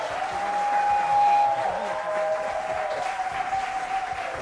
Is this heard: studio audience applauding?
yes